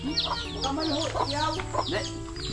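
A chicken kept at a home in the Philippines clucks in quick repeated bursts, close and fairly loud, with a low steady hum underneath.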